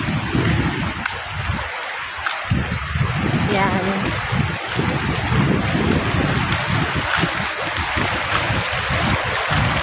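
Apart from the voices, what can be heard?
flowing water of a large stream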